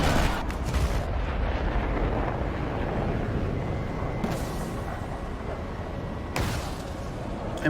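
Missile launches and rumbling jet noise from an SU-17 firing R-60 missiles in a combat flight video game, a dense low roar with a few sharp bursts, loud and close, no talk.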